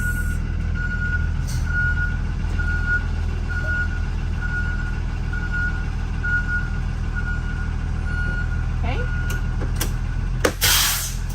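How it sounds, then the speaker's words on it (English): A school bus reverses onto pavement during a pre-trip inspection, its backup alarm beeping in a steady repeating rhythm over a constant diesel engine idle, with a brief hiss of air near the end. "I'm going to move back a little bit so that I'm on pavement when I check the rest of my bus."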